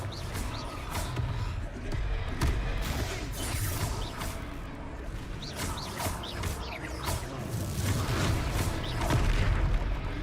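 Repeated booming blasts and crashes from a Harry Potter video game's Confringo fire spell, dense and loud over a rumbling battle bed with whooshes, continuous through the whole stretch.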